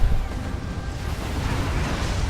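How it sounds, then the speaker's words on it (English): A very large explosion in the space strategy game Ancient Space rumbles as a dense, loud, low-heavy roar that holds steady for a couple of seconds with no talk over it. "Oh, that's a very large explosion."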